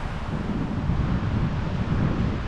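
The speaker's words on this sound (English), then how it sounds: "here I got a little bit of a headwind, which is making it miserable cold" A headwind buffets the microphone outdoors while fishing, a steady loud low rumble that fills the whole short stretch with no talk.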